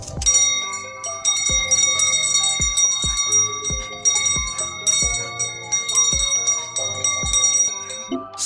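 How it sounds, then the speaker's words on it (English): A bright chiming bell melody rings out repeatedly, its tones layered and ringing on over a steady rhythmic beat. "he uses the doorbell"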